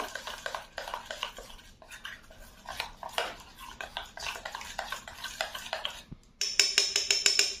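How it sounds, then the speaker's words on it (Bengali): Masala spices with kewra water and attar being mixed by hand in a bowl as a marinade for traditional mutton chaap, giving soft repeated squishing and scraping strokes with a few brighter clinks near the end. "এবার মশলাটাকে ভালো করে মিশিয়ে নেব।"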